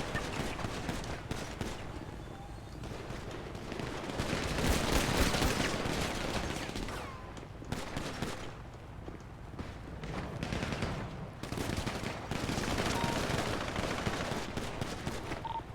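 Sustained gunfire in GTA V roleplay on NoPixel: dense automatic bursts and shots during a shootout, loud and continuous across the whole stretch, with brief dips between volleys.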